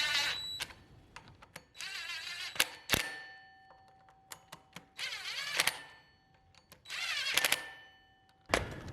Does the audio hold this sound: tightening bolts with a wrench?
yes